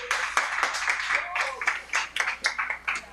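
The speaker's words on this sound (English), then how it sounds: "A round of applause." Scattered applause from a film festival awards audience, a few people clapping in bursts with a voice talking throughout.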